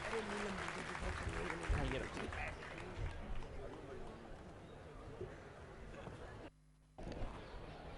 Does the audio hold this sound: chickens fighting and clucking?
no